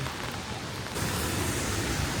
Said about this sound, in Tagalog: malakas talaga yung ulan